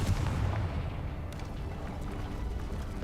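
A booming fire spell explosion from the Hogwarts Legacy video game bursts loudly at the start, then settles into a rumbling, crackling fiery wash that fades over a few seconds.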